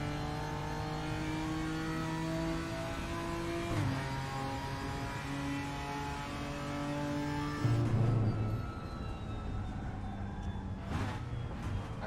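An Audi R8 race car engine in the RaceRoom racing game holds a steady high drone, then shifts gear with a step down in pitch, revving again as it climbs; loud, close and continuous, without talk.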